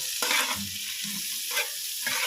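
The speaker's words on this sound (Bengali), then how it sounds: "এই ভাজার মধ্যে ভাজাগুলো ঘিয়ের মধ্যে দিয়ে দেব দিয়ে ভালো করে ঘিয়ের সাথে মিক্স করে নেব ভাজাগুলো" Fried items are stirred into hot ghee in a pan, a soft continuous sizzle broken by a few scraping strokes of a spoon against the metal, close and fairly quiet, with no talking.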